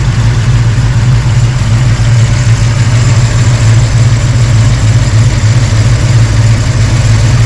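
A car engine idles steadily with a loud, constant low rumble and drone throughout while the radiator fan clutch is being tested, with no voices.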